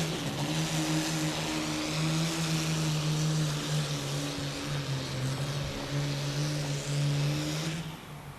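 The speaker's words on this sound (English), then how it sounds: "See if he has this tractor running as hard as he did last year." Tractor engine roaring at full power during a truck and tractor pull at a county fair, a loud sustained droning howl with steady pitch that holds for several seconds before dropping off at the end.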